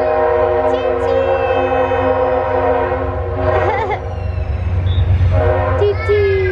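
A train sounds a loud, sustained, horn-like tone with layered harmonics that rises again near the end. Brief vocal sounds break in over it, above a low rumbling background.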